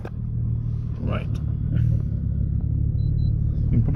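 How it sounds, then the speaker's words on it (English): A 2002 Nissan 350Z Fairlady idles with a steady low burble from the exhaust, close by and moderately loud, while a voice speaks briefly over it. "you can probably hear it burbling away there now"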